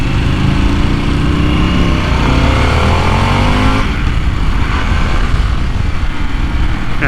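A 2023 Harley-Davidson Pan America Special ridden in sport mode, its engine a loud, constant drone whose pitch climbs and shifts as it pulls through the gears, with wind rush throughout.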